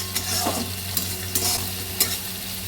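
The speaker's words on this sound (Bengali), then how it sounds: "এবার পেঁয়াজটা যখন ভাজা জন্য দিলাম, তার মধ্যে নরম হওয়ার জন্য পেঁয়াজটাকে একটু সামান্য নুন দিলাম।" Onion fries in a pan with a little salt, a soft steady sizzle punctuated by four sharp scrapes of a spatula stirring at regular intervals, with no talk.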